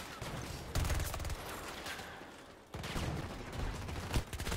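An AM40 rifle in Battlefield 2042 fires two sustained automatic bursts of rapid, punchy shots, separated by a brief lull, loud and close.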